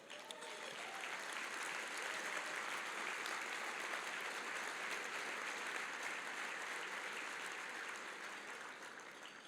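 A large audience applauds Massachusetts Governor Charlie Baker at the New England Council's 2022 annual celebration, with a steady, sustained wash of clapping that holds evenly for the whole stretch and sounds somewhat distant and subdued.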